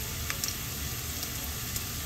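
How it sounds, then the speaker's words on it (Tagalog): Garlic, onion, ginger and small bird's-eye chilies sautéing in a pan for a Filipino dish, giving a steady broadband sizzle with a few faint clicks of stirring, close and constant, with no voices. "Habang ginigisa na po natin ang bawang sibuyas luya, lagay na po tayo ng siling labuyo"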